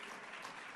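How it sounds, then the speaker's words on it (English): Steady, dense applause from a large audience, even and continuous throughout, heard at a distance and fairly faint. "now everybody is clapping for that"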